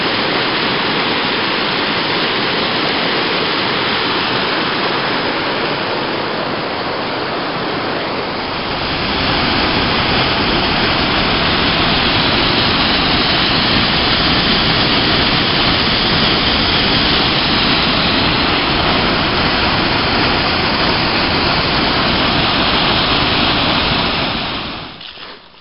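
Waterfall at 13 Falls on the Franconia Brook Trail in the Pemigewasset Wilderness, a loud, constant rushing roar of falling water close by that swells after the first few seconds and holds steady, with no voices.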